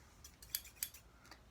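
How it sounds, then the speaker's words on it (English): Fabric scissors cutting felt for a stuffed toy, two crisp, close snips followed by a softer third cut, quiet and isolated. "I'm going to take my fabric scissors."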